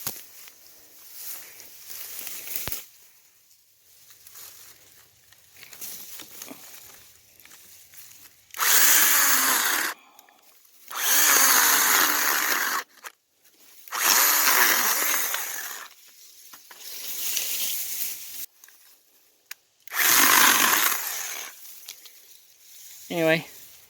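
A pole saw cuts through small tree branches outdoors, in several loud bursts of rasping sawing separated by pauses, with quieter rustling and handling noise between the cuts.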